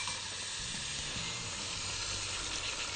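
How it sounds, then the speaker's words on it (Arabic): Water poured onto meat in a hot pan on a gas stove sets off a steady, loud sizzle with hissing steam that holds for the whole stretch, and no voices are heard. "وبعد كده بحط عليها بقى ميه واخليها"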